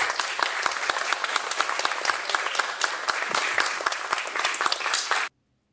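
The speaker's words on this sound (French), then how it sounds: "Allez, on peut sortir les applaudissements pour ça." A canned applause sound effect: dense, bright crowd clapping at constant loudness that stops abruptly, cutting to silence in the final half second.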